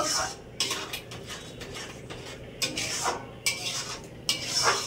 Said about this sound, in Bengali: চিনি দিয়ে আবারও কিছুক্ষণ নাড়তে থাকবো।